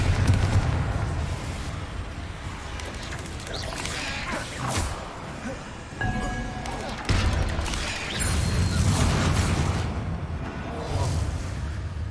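Confringo spell blasts in the Hogwarts Legacy video game, loud booming explosive bursts with crashing impacts and rumbling debris, layered over game effects and music.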